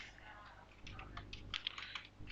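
JavaScript code is typed on a computer keyboard, a quick run of soft, close key clicks that grows busier toward the end.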